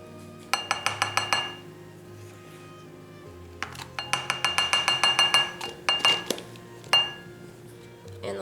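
A utensil clinks rapidly against a glass bowl while sour cream is stirred in, making bright, ringing taps in three quick bursts with short pauses between them and no talking.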